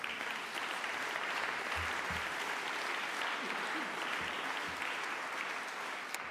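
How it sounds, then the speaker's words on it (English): Audience applause at a literary awards ceremony, honouring the judges; steady, dense clapping from a sizeable crowd fills the whole stretch at an even level. "I think they deserve a round of applause"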